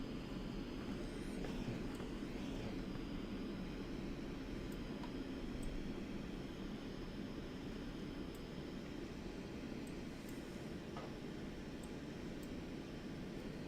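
Steady, fairly quiet airliner engine drone on landing approach in the X-Plane flight simulator, a constant broadband rumble and hiss with faint brief clicks, no voices.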